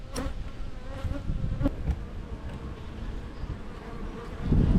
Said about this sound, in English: you're going to see the wrath of some very pissed off bees